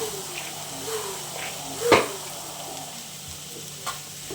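Carrots stirred in a pan for tawa pulao, a soft steady sizzle broken by a few spoon scrapes and one sharper clatter near the middle, with no talking.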